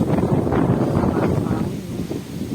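Warm wind blowing outdoors, a steady broadband rush and buffet across the microphone that stays loud and continuous with gusty swells, no voices present.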